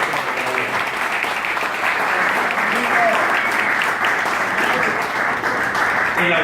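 An auditorium audience applauds to welcome a speaker at a notarial law lecture, sustained, loud clapping from many people that continues evenly with faint voices mixed underneath.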